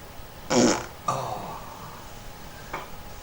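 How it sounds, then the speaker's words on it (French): A loud, close fart bursts out, followed by a second longer, raspier one and a brief short blip near the end, with no talking. "ça me fait péter, attends"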